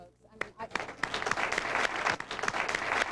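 A studio audience claps at a 1997 infomercial taping for the Ronco Showtime Rotisserie & BBQ, starting with scattered individual claps that quickly thicken into fuller, moderately loud applause.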